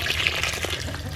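Water is poured over chicken feed in a container, filling it just above the feed to soak it, heard as a short, close, steady splashing rush.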